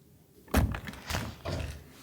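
A door in a building under construction swings shut with a sharp thud, followed by a couple of softer knocks and rattles as it settles, close and fairly loud.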